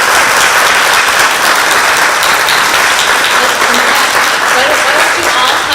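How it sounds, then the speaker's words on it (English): Audience giving a round of applause at an awards ceremony, a loud, dense and continuous roar of clapping from a large crowd, filling the whole stretch with cheering voices mixed in. "Can you give everyone a round of applause?"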